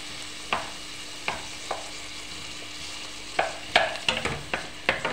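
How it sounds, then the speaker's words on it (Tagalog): Chopped onions sautéing in a hot pan (kawali) for spicy adobong balon-balonan, giving quiet scattered crackles and sharp stir-scrapes over a soft steady hiss, with a few isolated pops early and a denser cluster of clinks near the end. "Ngayon nag-init na tayo ng kawali. Yan ang ating sibuyas. Nalagay ko ng sibuyas."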